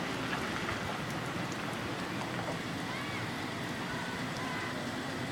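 Steady rain falling outdoors on a cold, wet long weekend, a constant even hiss of drops with faint wind and no break throughout.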